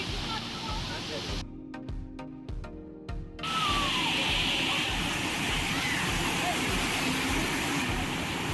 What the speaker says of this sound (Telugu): వాటర్ ఫాల్స్ దగ్గరికి అయితే వచ్చేసాం ఫైనల్లీ